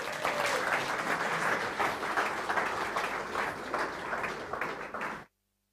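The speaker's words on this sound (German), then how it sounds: "Und jetzt großen Applaus" A crowd applauds steadily and loudly for about five seconds, then the clapping cuts off abruptly into silence.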